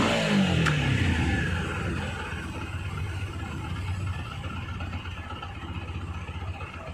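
TVS Apache RTR 160 4V motorcycle with a slow-speed stalling problem, its engine catching with a quick falling whine and then idling in a steady, close low thrum throughout.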